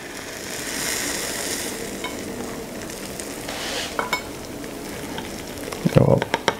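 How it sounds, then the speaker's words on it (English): Hot apple crumble fresh from the oven giving a faint steady sizzle, then a few clinks of a spoon or dish near the end. "You can hear it sizzling."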